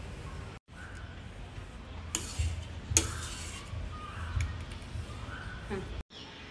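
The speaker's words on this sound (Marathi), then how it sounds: "अगदी मंद आचेवर आपल्याला गोल्डन कलर येईपर्यंत हा रवा कॉन्स्टंटली भाजून घ्यायचा आहे" Semolina being stirred and roasted in a pan on a low flame: soft, steady scraping of a spoon against the pan with occasional louder knocks, close and fairly quiet.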